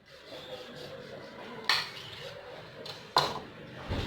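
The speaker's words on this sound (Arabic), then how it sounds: "غادي ناخذ واحد السكين وغادي نبدا نقطع فيها" A knife cutting through layered pastry dough for a honeycomb-style pastry, with faint scraping and two sharp taps of the blade against the board or tray, close and quiet.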